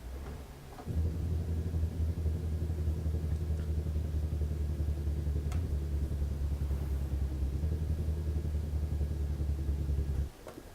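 A truck's engine brake drones in American Truck Simulator, a steady deep rumbling growl held for about nine seconds before it cuts off, with no talk over it.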